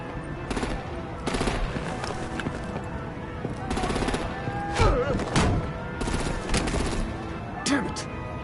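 Artillery and rapid gunfire in the video game Batman The Telltale Series, with bursts of shots and thuds crackling repeatedly over a dense, noisy battle background.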